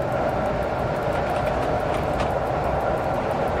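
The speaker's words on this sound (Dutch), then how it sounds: "dat is toch een leuk treintje waarmee aan het rijden zijn" Steady rumble of a train driving in the railway simulator game SimRail, a continuous close rolling drone with no voices over it.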